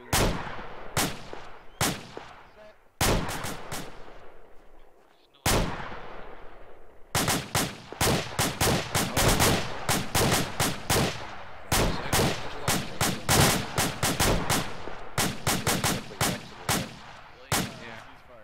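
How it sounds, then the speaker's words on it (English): A soldier fires rapidly behind the camera during fireteam training, loud repeated gunshots in bursts and volleys that run almost continuously, with a short lull near the start. "Why is there a guy behind us shooting?"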